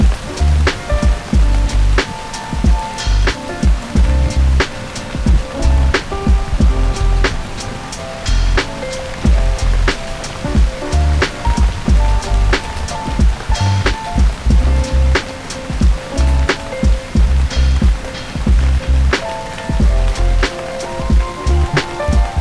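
Rain falls steadily outdoors on the Oregon coast, a dense, continuous patter of close drops with sharp individual ticks throughout.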